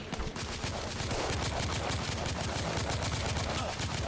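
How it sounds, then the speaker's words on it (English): Rapid, dense gunfire rattles without pause through a Victorian London firefight in The Order: 1886, sniper shots blending into a continuous loud barrage with no clear gaps. "Got a little sniper action going on?"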